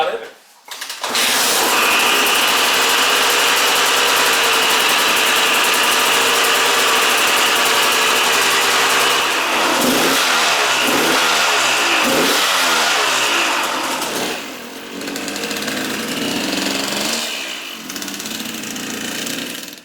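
A KTM 200 motorcycle engine revs hard and continuously on a test ride, a loud, buzzy, high-pitched drone with repeated rising and falling throttle sweeps near the middle, then easing slightly, with voices faintly underneath.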